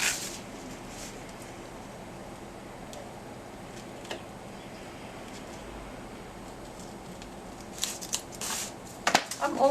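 Scissors snip through cardboard while a box is being altered, with quiet rustling and small ticks before a burst of sharp crisp cuts near the end, close and fairly loud.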